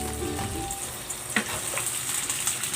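Pancit sauce of soy sauce and oyster sauce with pepper boiling in a pan, a steady close sizzle and bubbling, with a brief clink of a utensil partway through.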